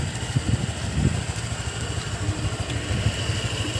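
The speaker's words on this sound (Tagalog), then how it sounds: "patay mo muna yung makina" A Honda Click 125 version 3 scooter idles steadily close by, a continuous mid-range engine drone with slight low pulsing and no voices.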